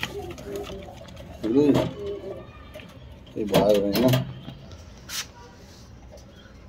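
Pigeons coo in a couple of throaty, rolling bursts close by, with a short softer call afterward, while someone speaks Hindi nearby.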